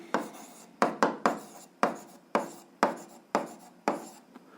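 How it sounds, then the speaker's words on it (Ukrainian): A pen writing down the answer to an algebra equation: about ten quick scratchy strokes in an uneven rhythm, each a crisp attack that fades fast, close and quiet, with no talking. "Ну що ж, записуємо відповідь, пишемо відповідь."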